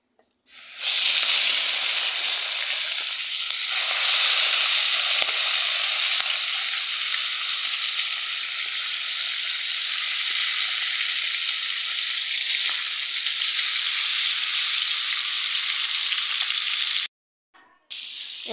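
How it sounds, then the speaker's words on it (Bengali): Rohu fish pieces fry in hot oil in a wok, a loud, close, continuous sizzle that holds steady for a long stretch before briefly cutting out near the end. "চুলাতে কড়াই বসাই দিলাম মাছগুলো ভাজার জন্য আর কড়াইতে তেল দিয়ে দিলাম"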